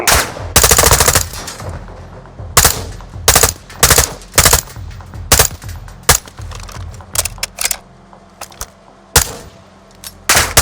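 Machine gun fire from Call of Duty: Modern Warfare II comes in loud, close bursts of varying length, separated by short pauses, with scattered single shots, and almost no voices.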